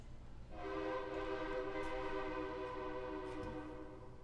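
Passing train heard faintly from a house nearby: a steady harmonic tone, horn-like, rises after half a second and holds for several seconds before easing off, with no talk over it.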